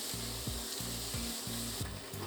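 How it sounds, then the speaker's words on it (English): Bacon frying in a pan gives a steady close sizzle with faint crackle, overlaid by a rhythmic scraping or rubbing about every third of a second, likely a utensil working the strips. "bacon sizzling in the pan"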